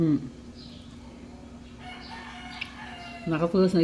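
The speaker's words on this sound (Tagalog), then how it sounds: "Native chicken." A native chicken rooster crows in a rural setting, a single fairly faint call rising near the end of the clip over steady background hum.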